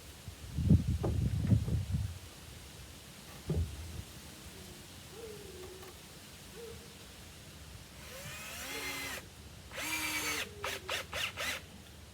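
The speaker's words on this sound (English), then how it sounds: "we're gonna drill it into the tree" A power drill whirs in several short bursts, driving a screw into a tree, with stops and starts, after some dull knocks and handling noises at the beginning.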